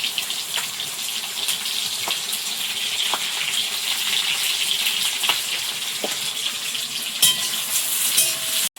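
Chopped garlic, onion and green chilli fry in hot oil with a steady, dense crackling sizzle, broken by occasional sharp clicks of a utensil against the pan.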